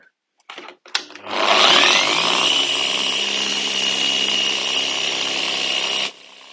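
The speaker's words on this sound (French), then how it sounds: "je travaille avec une LHR 21, donc avec une polisseuse orbitale aléatoire en rotation libre" A Rupes LHR 21 random orbital polisher with a wool pad spins up and runs in a steady, loud whirring drone while polishing a BMW M135i, then cuts off abruptly after a few seconds.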